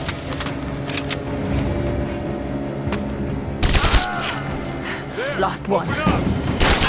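Gunfire fills a firefight in Rise of the Tomb Raider, with bursts of shots over a steady battle din, then louder close volleys near the end; a voice speaks briefly over the fighting.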